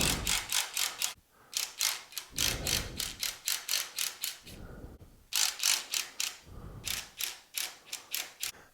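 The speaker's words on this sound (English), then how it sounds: "So go ahead and just spin the nuts off." A 14 mm socket wrench ratcheting nuts off a Cub Cadet 3X snow blower, rapid bursts of clicking pawl ticks in repeated runs with short pauses between strokes, close and crisp.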